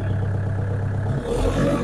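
A tractor engine revs hard while a fertilizer spreader runs off the PTO, giving a loud, close, continuous rumbling drone that rises in pitch near the end.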